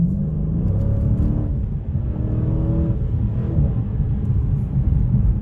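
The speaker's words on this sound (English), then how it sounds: "I'm gonna give it some gas, lay into it a little bit." A Dodge Challenger Scat Pack with its 392 engine pulls away from a slow roll under throttle, a loud, steady low rumble of engine and road noise that stays strong and close throughout.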